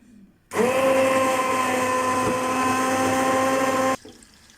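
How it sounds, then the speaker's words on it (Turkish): A blender starts abruptly and runs loud and steady for about three seconds, whirring through cooked lentil soup before cutting off. "Şimdi blender'a vuruyorum."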